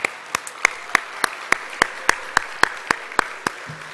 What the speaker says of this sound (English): How about a round of applause for the sponsors?